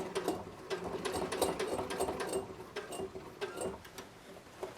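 A sewing machine runs continuously as it topstitches bias tape around a small quilted vest armhole, with a close, rapid ticking stitch rhythm throughout.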